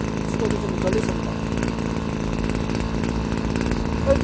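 Brush cutter with a small two-stroke engine running loud and close, holding a steady, buzzing drone throughout.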